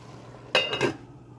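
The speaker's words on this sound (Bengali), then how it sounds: "এখন আমি ঢাকনাটা তুলিয়া আমি পাতাকপি দিলাম।" A metal lid lifted off a cooking pan with a brief clink and clatter, followed by cabbage dropped in, two quick close knocks in an otherwise quiet kitchen.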